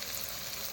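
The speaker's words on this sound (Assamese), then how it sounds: "এইটো ভাজি আছোঁ বিলাহীৰ লগত মাংসটো" Pork frying together with tomatoes in a pan gives off a brief, steady crackling sizzle, moderately loud and unbroken.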